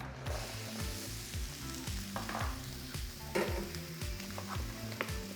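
Green peppers and onions fry in avocado oil, giving a steady, close sizzle and crackle with a rhythmic low pulsing beneath it.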